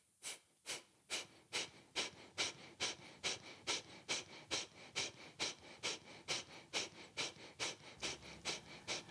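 Sharp, forceful exhaled breaths from power yoga breathwork, repeating in a steady, quick rhythm of roughly two per second, close and fairly quiet with no talking.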